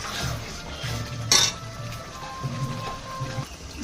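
Potatoes tumble into a pot holding fish heads for a Bengali muri ghonto, a sharp metallic clatter near 1.3 seconds standing out over low cooking rumble and scattered soft clinks of pans and utensils.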